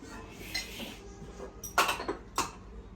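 Pots and a pressure cooker are set down and arranged on a kitchen stove during cooking, giving a few sharp metallic clanks and clatters, two of them louder, over a quiet background.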